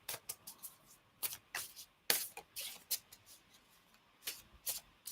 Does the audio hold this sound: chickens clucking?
no